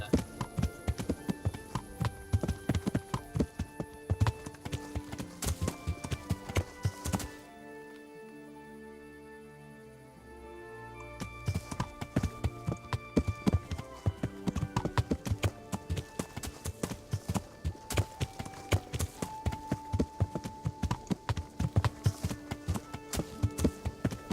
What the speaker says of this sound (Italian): Vado a cavallo che chiediamo a questa persona se ci può aiutare